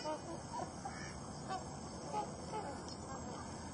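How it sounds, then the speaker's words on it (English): Canada geese honking at a wintering waterfowl spot shared with mallards, a steady, slightly distant chatter of overlapping honks under constant outdoor background noise. "have Canada geese and a bunch of mallards"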